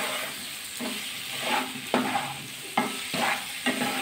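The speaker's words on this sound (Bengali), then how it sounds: "এই তেলের মধ্যে একটু এঁচোরটা ভাজা করে নেব।" Boiled green jackfruit pieces frying in hot oil, a close, continuous sizzle broken by several sharp bursts and scrapes as the pieces are stirred and turned in the pan, with no voices.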